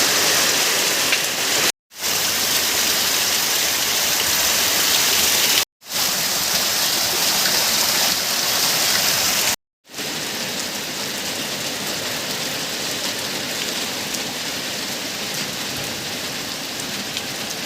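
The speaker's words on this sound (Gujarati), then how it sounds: "જોઈ શકો છો અત્યારે લાઈવ અમારા મેથળા ગામમાં કેટલો વરસાદ પડે છે" Heavy monsoon rain pours down on Methla village, a dense, steady hiss of rain hitting surfaces that is loud and close, broken by three brief dropouts and otherwise unbroken, with no voices.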